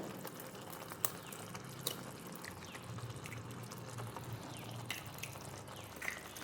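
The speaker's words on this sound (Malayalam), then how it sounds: "ഞാനിവിടെ മൂന്ന് മുട്ടയാണ് എടുത്തിരിക്കുന്നത് ഇവിടെ പൊട്ടിച്ച് ഒഴിച്ചു കൊടുക്കുന്നുണ്ട്" Three eggs are cracked and poured into a pan of egg curry, making soft wet drips and pouring splashes with a few sharp taps over a low, steady kitchen background, without any talk.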